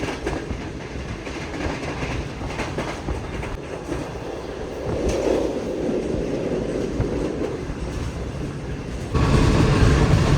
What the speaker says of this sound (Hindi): क्या बेहतरीन स्पीड में ट्रेन ने स्किप किया सांगला हिल जंक्शन को